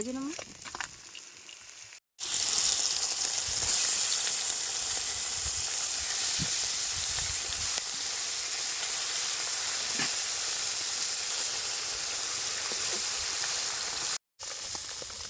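Fish frying in oil in a pan during village-style cooking by a river, a steady loud sizzle and hiss running throughout with two brief dropouts.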